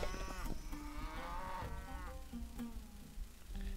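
Cattle in the strategy game Civilization V moo in a loud, drawn-out bellow with rising and falling harmonics, heard clearly over a steady game soundscape.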